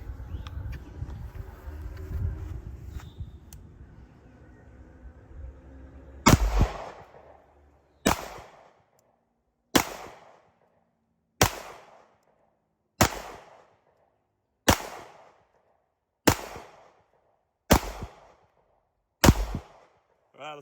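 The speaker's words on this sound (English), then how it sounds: "Let's just try some. Let's just shoot some." Nine sharp pistol shots from a Tisas 1911 Tank Commander 9mm ring out at an outdoor range, evenly spaced about a second and a half apart, each loud crack trailing off briefly, after a few seconds of low background rumble.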